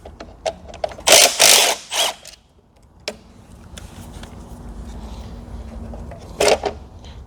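Two screws being undone to free a bracket on a 2019 Smart EQ electric car: a burst of metallic clicks and ratcheting near 1–2 seconds, a sharp tap around 3 seconds, another short rattle near 6.5 seconds, with quiet workshop background between.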